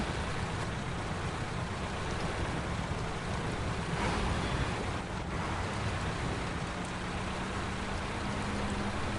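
A truck climbs a steep incline through a waterfall in the Snowrunner video game under a constant, loud roar of rushing water, with a low engine drone faintly beneath it and no talking.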